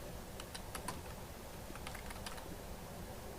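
Someone types on a computer keyboard into a search bar: short, quiet bursts of key clicks in two quick runs over a faint background hiss.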